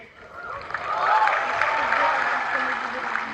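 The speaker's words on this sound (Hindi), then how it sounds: "पुरुष ताली बजा रहे हैं" An audience of men at the National Creators Awards 2024 breaks into steady applause, a dense wash of clapping that rises quickly and holds, filling a large hall with no talk over it.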